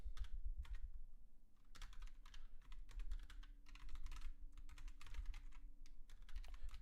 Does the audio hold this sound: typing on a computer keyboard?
yes